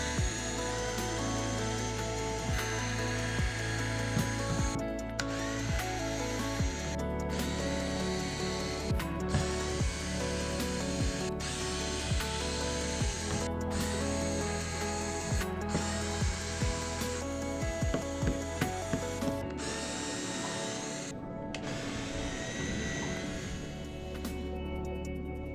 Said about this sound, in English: I was definitely appreciating having a powered screwdriver instead of a regular wrench